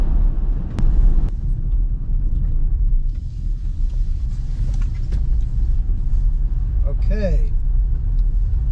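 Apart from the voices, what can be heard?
Kia EV9 RWD electric SUV driving on dirt road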